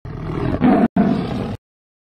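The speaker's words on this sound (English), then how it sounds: "Tiger, tiger." A loud, close tiger roar rising in two rough bursts with a brief break between them, then silence.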